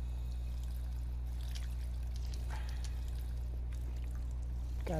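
Water pours in a steady, continuous stream inside the video game Fallout 4, heard close over a constant low hum with no voices.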